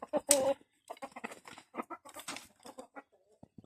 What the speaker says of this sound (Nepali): कुखुराहरू एक्साइटेड छ होइन चढ्नुको लागि